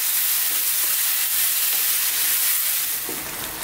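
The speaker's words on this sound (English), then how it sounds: "4 minutes on this high heat again, stirring all the time." Aloo gobi curry of potato, cauliflower and broken-down tomatoes fries on high heat while being stirred constantly, giving a dense, even hiss and sizzle close up throughout, with no voices.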